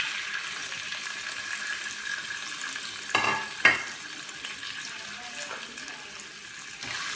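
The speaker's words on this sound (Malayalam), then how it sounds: "ഞാൻ തേങ്ങ വറുക്കാൻ പോവാം." Coconut fries in a few spoons of coconut oil for a prawn roast: a steady close sizzle runs throughout, broken by two louder scraping stirs about midway and one more near the end.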